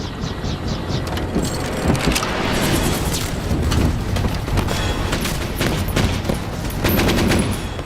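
Dense, sustained gunfire in a French spy film, a continuous rattle of overlapping shots with booms and a rumbling undertone, fairly loud and without speech.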